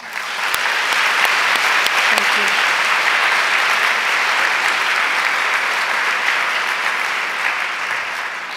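Audience applause for the organizing committee at a college commemorative day event, a steady dense roar of clapping throughout, with a voice briefly speaking at the start.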